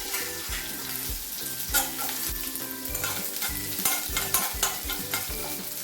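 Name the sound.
shallots, dried red chillies and curry leaves frying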